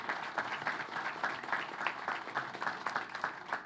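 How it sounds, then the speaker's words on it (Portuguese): Steady applause from an audience at a panel event fills the space, dense and sustained, with a fairly even level and no voices standing out. "Receba mais uma vez nosso carinho, nossos aplausos."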